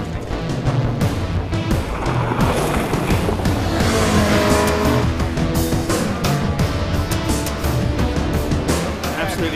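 A Lamborghini Gallardo driven hard around Donington race track, heard from inside the car: loud, continuous engine roar with rising and falling revs, tire noise and handbrake use, dense and close throughout.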